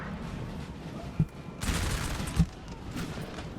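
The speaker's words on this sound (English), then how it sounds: "There's obviously artillery still." Artillery fire in the video game Napoleon: Total War 3, a couple of sharp, moderately distant booms rising out of a low, rumbling battle din.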